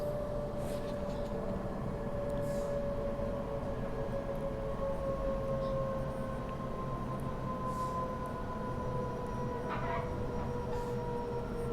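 Sydney Trains T1 A-Train running on single track between Richmond and Schofields, a steady close rolling rumble with a sustained tonal motor whine and faint rattles throughout, no talking.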